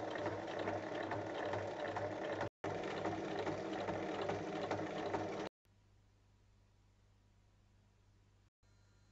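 A sewing machine runs steadily, stitching around a fabric pouch at 0.5 cm seam allowance, a continuous close mechanical whirr with a brief pause, then stopping to near quiet at the end.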